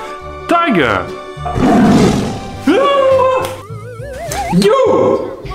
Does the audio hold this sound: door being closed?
no